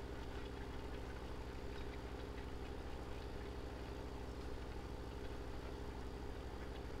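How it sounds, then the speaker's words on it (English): Tractor engine running in the video game Farming Simulator 17, a steady low idling rumble with a constant hum, even and unbroken throughout with no voices. "This tractor definitely is the ticket."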